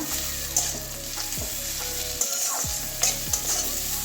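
Bitter gourd stir-fries with nigella seeds in a hot pan. A constant sizzle runs underneath while a spatula scrapes and stirs in several distinct strokes.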